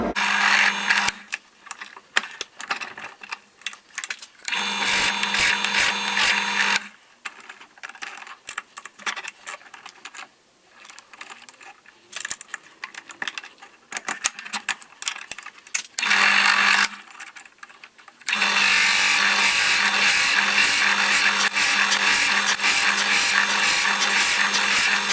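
A drill press whirs in bursts, starting and stopping several times with a steady high mechanical whine, followed by a longer sustained run, squaring the ends of a walnut pen blank.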